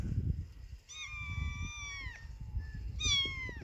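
Two clear, drawn-out kitten meows, the first long and falling, the second shorter, heard over faint low background rustling.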